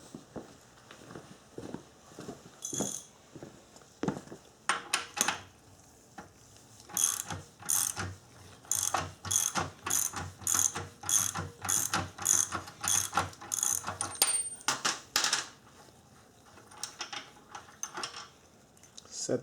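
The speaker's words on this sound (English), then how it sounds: "Next step is you want to take the other bolt off the other side." A ratchet works a bolt loose on a floor jack in repeated bursts of rapid clicking strokes, close and crisp, with short pauses and handling noises between the runs.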